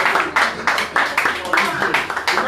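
At a live event, a small group claps in a quick, steady rhythm of sharp, evenly spaced claps, sounding close and fairly loud with a voice present.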